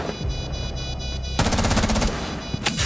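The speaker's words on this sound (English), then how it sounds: "Capitao had a LMG, so he was prepared. That constant firing was coming down." A light machine gun in a video game fires long continuous bursts, loud and close, the rapid rattle intensifying midway with no speech over it.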